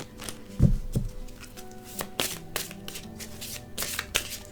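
Tarot cards being shuffled by hand, a series of soft riffling and sliding bursts with a few light taps, close and quiet, no talk.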